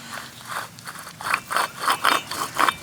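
A worn wheel hub bearing turns roughly, giving a rhythmic series of gritty scraping, grinding pulses that grow louder as it rotates, close by and with no talk.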